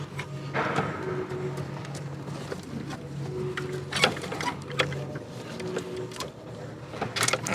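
Tool working a bolt on a BMW N54 high pressure fuel pump, with close, soft metallic clicks and ratcheting scrapes in irregular bursts over a quiet background hum, without talk.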